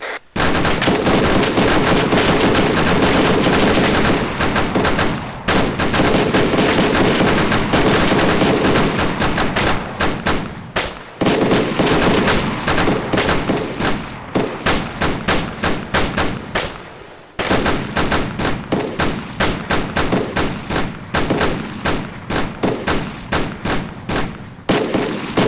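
A heavy, sustained volley of gunfire, with rapid automatic bursts from several weapons, stays loud and close for about twenty-five seconds. Brief gaps break the fire around five, eleven and seventeen seconds.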